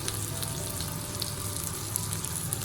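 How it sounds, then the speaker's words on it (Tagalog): Pork for Filipino nilagang baboy sautéing briefly in a pan over medium-high heat, a steady close sizzle with scattered crackles and no voices throughout. "isukay lang natin ito ng sandali para bumango"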